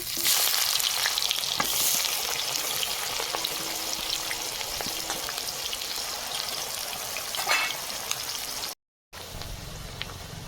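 Chopped onion and whole spices (bay leaf, cloves, nutmeg, black pepper and cinnamon) fry in oil in a pan, giving a steady, close sizzle with occasional stirring scrapes and one brief dropout near the end.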